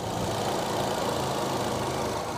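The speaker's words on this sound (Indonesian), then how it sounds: "Dan ini untuk suara mesinnya. Suara mesinnya masih halus." A 2013 Chevrolet Spin LTZ petrol engine idles smoothly and steadily, with an even, continuous mechanical hum close by and no voices.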